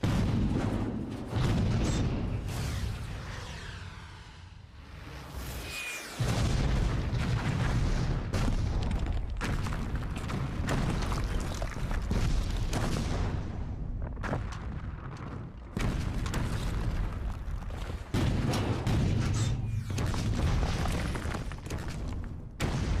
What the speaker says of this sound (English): French cannons are deadly!